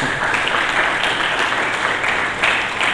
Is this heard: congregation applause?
yes